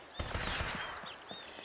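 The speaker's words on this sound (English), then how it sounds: "I heard gunshots." Gunfire in the video game Uncharted: Drake's Fortune, a short rapid cluster of shots that sounds distant and muffled, followed by a scattered trailing shot or two.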